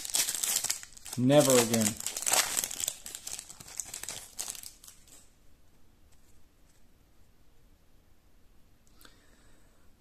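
A Topps Bundesliga Chrome 2013/14 card pack wrapper is torn open and crinkled, loud and close for a few seconds beneath a man's speech, then the sound fades to near silence with a faint click at the end.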